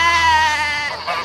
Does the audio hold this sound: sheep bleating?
yes